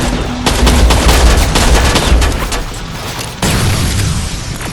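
Heavy gunfire and booming blasts in the game Terminator: Resistance during a pinned-down battle, loud rapid automatic bursts layered with deep thuds, briefly dipping before another sharp volley kicks back in.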